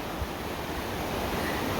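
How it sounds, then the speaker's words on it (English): Bear Creek in Bear Canyon near Switzer Falls flows through small waterfalls in January, a steady, close rush of water that stays even and unbroken throughout. "there's been these tiny waterfalls all over the place"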